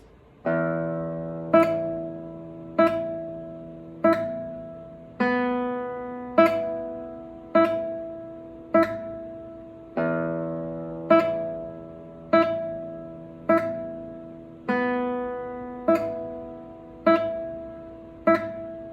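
Plucked nylon-string classical guitar notes in a slow, regular tremolo pattern, P-I-M-A fingering, each bass note followed by quick repeated treble plucks, clear and close with no voices.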